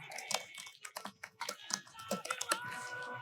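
Rapid, irregular keystrokes on a computer keyboard as code is typed, close and fairly quiet, in uneven bursts with short pauses and no talking.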